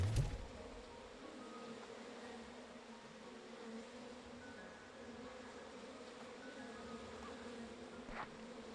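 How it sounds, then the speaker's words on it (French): Faint, steady droning buzz of bees swarming around a hive in the video game Slime Rancher 2, a continuous low hum with no talking. "Il y a une ruche en dessous, c'est sûr."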